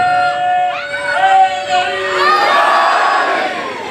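Crowd at a Muharram majlis in Bhakkar shouting a religious slogan in unison, a loud massed roar of voices that swells and holds steady, with overlapping shouts close and reverberant.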